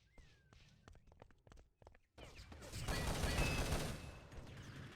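Gunfire in a competitive video game match, a series of rapid sharp shots and footsteps at first, then a dense louder burst of firing and explosive noise through the middle, fading somewhat toward the end.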